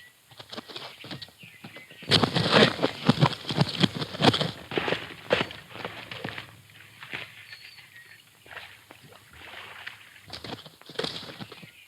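Horse hooves clip-clopping in a Western adventure scene, a busy patter of hoof strikes that grows louder and more rapid partway through, then eases to scattered steps.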